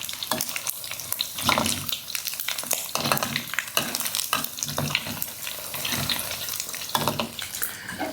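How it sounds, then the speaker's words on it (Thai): Pieces of seasoned pork fry steadily in hot oil in a wok, giving a dense, close, continuous bubbling sizzle with irregular stirring scrapes and no talking. "เดี๋ยวเราจะทอดไปเรื่อยนะครับ"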